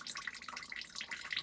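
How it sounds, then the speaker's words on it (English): Water draining through a small hole punched in a water-filled boat headliner into a pail below, a close, continuous splashing trickle with no voices. "So I put a little hole in it here, and it's going to drain into this pail."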